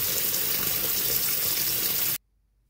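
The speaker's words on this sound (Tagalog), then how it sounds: "Lagyan po naman natin ng malamig na tubig yan." Cold tap water runs steadily onto boiled eggs, a loud, close, even hiss and splash that lasts about two seconds and then cuts off abruptly into silence.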